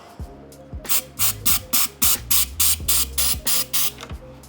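Aerosol lacquer sprayed upside down into a bucket while painting camper van bump-outs, heard as about ten short, loud hissing bursts in a steady rhythm, close by, over faint low background noise.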